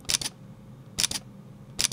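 Three quiet double clicks from a Fujifilm X-T50 camera shutter, evenly spaced about a second apart, each a crisp paired snap heard close up in an otherwise quiet indoor room.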